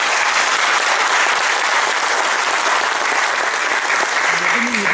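Audience at a foundation branch opening event in Yalova claps in a loud, sustained, dense round of applause, with a faint voice briefly rising near the end.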